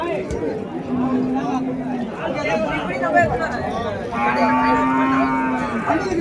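Cows at Uthangarai cattle market in Krishnagiri district give two long, drawn-out moos, one early and one later, close by. Steady crowd chatter and people talking run underneath throughout.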